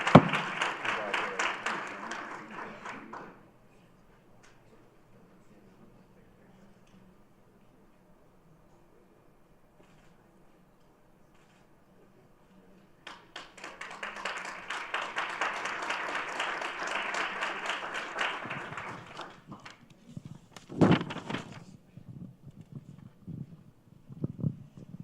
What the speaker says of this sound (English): Another round of applause for Dr. Ebrook.